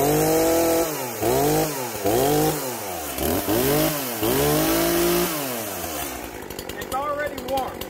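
An Echo 4510 chainsaw, warmed up and close by, revs loudly in a series of repeated throttle blips, its pitch rising and falling, then settles into a rougher idle toward the end.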